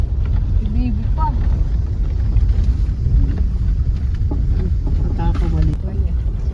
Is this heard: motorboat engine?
yes